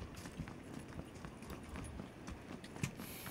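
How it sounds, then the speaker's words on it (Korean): Faint, quick enemy footsteps in the video game PUBG (Battlegrounds), a soft irregular patter of running steps with one sharper thud near the end, heard at low level under quiet game ambience. "났어 발소리가 났어"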